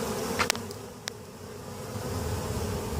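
Honeybees fan at the entrance of a beehive, a steady close buzzing drone with a few individual bees zipping past the microphone.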